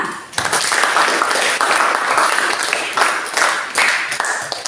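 Classroom of students clapping for a group's work, a burst of many hands starting abruptly and continuing in uneven waves, fairly close and loud.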